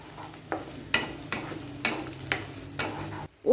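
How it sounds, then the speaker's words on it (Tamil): Ground masala paste for cauliflower gravy stirring and sizzling in hot oil in a pan, with a steady frying hiss broken by several sharp scraping strokes at regular intervals, close and fairly quiet, no talk. "ஃபஸ்ட்டு இந்த பேஸ்ட்டை எண்ணெயில் லைட்டாக வதக்கி விட்டுக்குவோம்."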